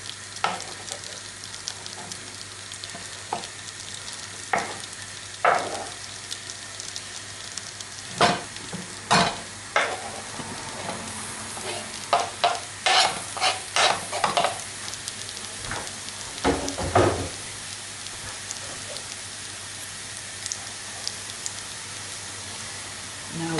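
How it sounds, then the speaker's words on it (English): Mushrooms frying in butter in a frying pan, a steady close sizzle with scattered sharp crackles and clatters of stirring, bursts bunching midway, no voices. "an ounce of butter in the frying pan"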